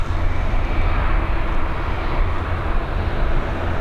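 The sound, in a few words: Ryanair Boeing 737 landing from Nice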